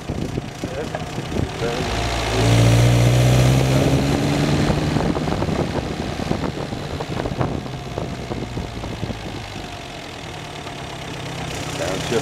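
A 1955 MG TF's engine pulls steadily in fourth gear, a rising then settling mid-pitched drone heard from the passenger seat with road and wind noise around it.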